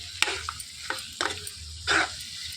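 Rajma curry with mashed potato is stirred in a pan, several close, wet scraping strokes with brief pauses between them over a faint sizzle.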